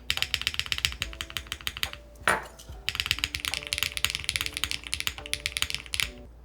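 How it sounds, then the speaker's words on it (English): Fast typing rattles on an Eave65 mechanical keyboard kit fitted with Cherry-type switches and a GMK spacebar, with dense close clacks, a deeper thock from the spacebar and a brief swipe-like rustle in the middle. "Let's try with the GMK spacebar to compare as well."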